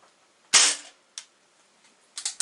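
A Crosman 2240 air pistol fires one sharp, loud pop that rings out briefly, followed by a few quieter clicks and taps.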